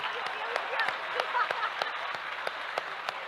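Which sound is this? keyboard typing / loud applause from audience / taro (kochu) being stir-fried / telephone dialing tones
loud applause from audience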